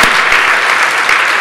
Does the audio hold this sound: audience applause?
yes